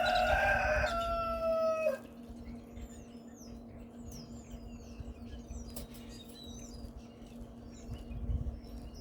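A backyard rooster crows once, loud and fairly close, a long cock-a-doodle-doo lasting about two seconds, followed by quieter distant birdsong over a steady low hum.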